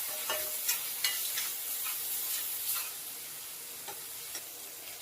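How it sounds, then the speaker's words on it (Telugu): Coriander powder and chili are stirred into a drumstick egg curry, giving soft repeated scraping strokes over a gentle oil sizzle, close and fairly quiet, with no talking. "ఒకసారి మంచిగా కలిపేసుకుందామంతా."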